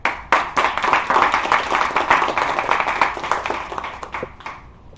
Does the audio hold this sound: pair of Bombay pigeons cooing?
no